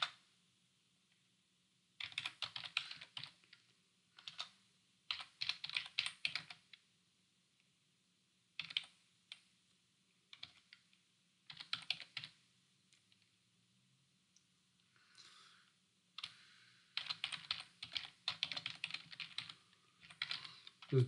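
Bursts of typing on a computer keyboard during Java programming in NetBeans, quick clattering key runs separated by pauses, close and fairly quiet over a faint low hum.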